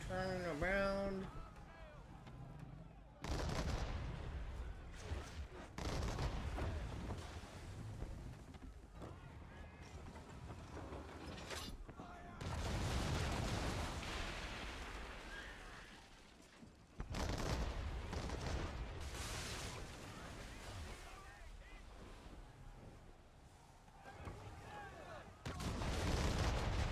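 Ship cannons firing heated shot in Assassin's Creed 3 Remastered, heavy booming broadsides rolling out in long bursts across a naval battle with creaking sailing-ship ambience, while someone talks over parts of it.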